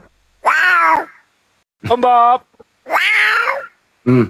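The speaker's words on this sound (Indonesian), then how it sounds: "Kejepit kucing lo." A cat meows loudly and close by, giving about four drawn-out, whiny cries separated by short silences, with a brief spoken phrase in between.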